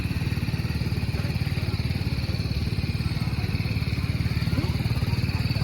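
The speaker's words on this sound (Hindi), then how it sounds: "दुनिया भर की सुपर बाइक्स आ रखी है यहाँ पे।" Superbike engines, among them a Hayabusa, ZX10R, Z900 and BMW, idle nearby with a fast, steady pulsing putter and low rumble, continuous and close, with faint voices in the background.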